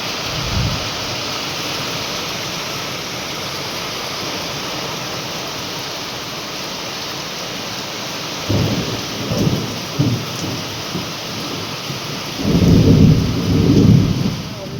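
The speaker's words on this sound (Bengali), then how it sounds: "এই দেখো বৃষ্টি পড়ছে।" Steady rain pours down outside a home during a storm, a dense continuous hiss with a few heavier low gusts or rumbles near the end.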